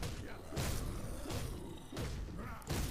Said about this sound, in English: As you can hear there, it's got a very satisfying thud to it.